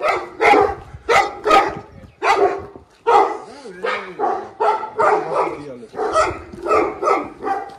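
A big dog barks loudly and repeatedly in a steady string of deep barks, close by and outdoors, with a brief whine and voices mixed in.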